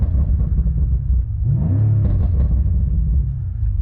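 A 2018 BMW M5's 4.4-liter V8 rumbles at idle, then revs up briefly in a rising snarl before settling back to a deep, steady burble, heard close from inside the car.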